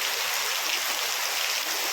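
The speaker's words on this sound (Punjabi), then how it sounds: "ਚਲੋ ਹੁਣ ਮੀਂਹ ਦਾ ਆਨੰਦ ਮਾਣਦੇ ਆ ਜੀ ਮੀਂਹ ਪੈਂਦਾ" Steady rain falls in a continuous hiss, even and unbroken for the whole stretch, with no voices over it.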